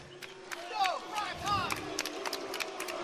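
At an MMA event, a crowd around the cage cheers and shouts for a fighter, a moderate roar with whoops and a few sharp claps, heard under an announcer's voice.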